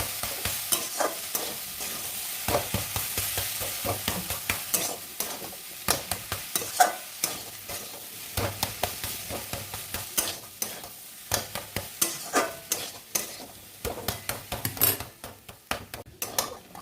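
Banana flower curry is stirred in a pan over medium-high heat, a long run of rhythmic scraping and clattering utensil strokes over a low sizzle, close and without voices.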